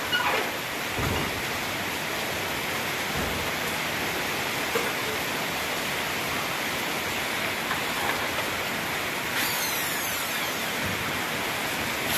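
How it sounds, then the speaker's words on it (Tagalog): Steady rain hisses down on a construction site in Cavite, a dense continuous wash of noise with no talking. "Naulan mga guys, oh, naulan."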